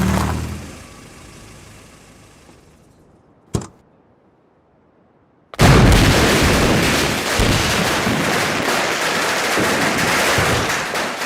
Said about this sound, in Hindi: कौन उल्लू का पट्टा पटाखे चला रहा है?